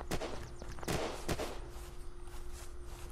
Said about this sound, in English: Let me follow the gunshots.